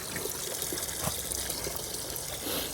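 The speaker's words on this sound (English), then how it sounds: "I refilled it back up with water." Water pours steadily into a 3-gallon bucket being filled for washing a car, a continuous close rushing and trickling with no talk.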